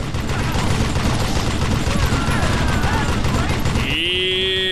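Rapid video-game gunfire rattles continuously in a dense, loud burst during a rail-shooting sequence, ending with a brief rising electronic tone.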